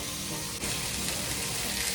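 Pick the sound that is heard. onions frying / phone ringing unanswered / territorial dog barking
onions frying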